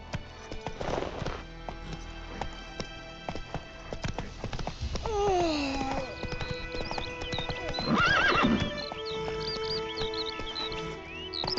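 A horse gallops with steady clip-clop hoofbeats and whinnies twice in a Witcher 3 video game scene, set against ambient music and background sounds, with no talk.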